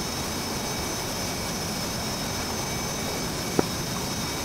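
A jet aircraft taxiing in the flight simulator DCS World gives a steady, loud turbine whine and roar that holds unchanged throughout, with one faint click near the end.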